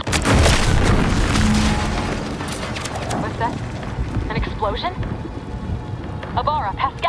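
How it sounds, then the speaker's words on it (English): A loud, booming explosion in The Outer Worlds 2 opens with a heavy rumbling blast, then a crackling, debris-filled tail while a voice speaks over the fading noise. "What's that? An explosion?"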